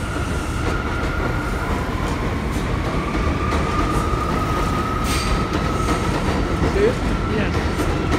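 An R179 A train subway car at Lefferts Boulevard, a loud, steady rumbling roar of wheels on track close by, with a faint high squeal drifting through and quieter voices murmuring underneath.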